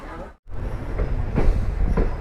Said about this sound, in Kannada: ಸುಬ್ರಹ್ಮಣ್ಯ ರೋಡಿಂದ ನಮ್ಮ ಟ್ರೈನ್ ಡಿಪಾರ್ಟ್ ಆಯ್ತು